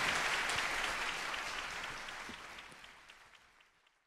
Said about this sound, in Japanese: そしてバンドの皆さんにももう一度大きな拍手をお送りください。